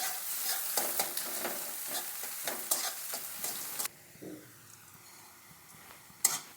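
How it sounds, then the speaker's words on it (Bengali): Green chillies and onion fry in a pan for methi kari pakora, sizzling close up with repeated scraping stirs for a few seconds before easing into a quieter, steady sizzle. "কাঁচা লঙ্কা কুচি, আর আধা পেঁয়াজ দিলাম আর আধা পেঁয়াজ রেখে দিলাম, এটাকে আমি পরে ব্যবহার করব। এখন এগুলো একটু ভালো করে ভেজে নেব"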